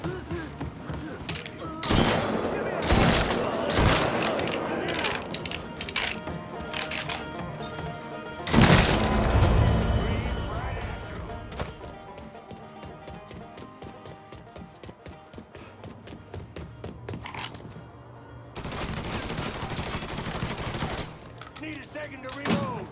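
Bursts of gunfire in the video game Mafia 3, several loud volleys separated by quieter stretches with clattering effects, mixed with game sound and ambience.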